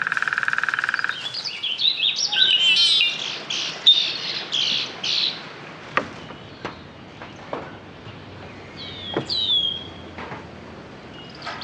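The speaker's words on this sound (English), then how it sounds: "This little chap is a mountain quail, one of 2 native species in this region" A mountain quail calls in the wild, a series of sharp squawking and chirping notes, some clustered and some isolated, heard fairly close with a quiet outdoor background.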